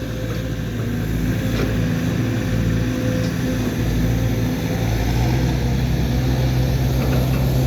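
A tractor engine runs at a steady drone in a field where soil is being levelled, its low, constant hum close and unbroken from start to finish.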